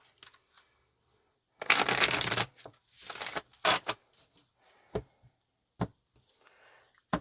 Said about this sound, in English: Let's get one more shuffle.